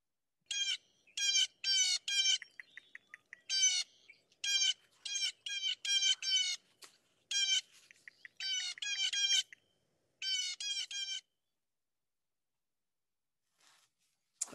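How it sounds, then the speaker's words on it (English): Blue jay giving a series of harsh, repeated jay calls in quick bursts, clear and fairly close, with short pauses between groups and no talking. "so there's the blue jay"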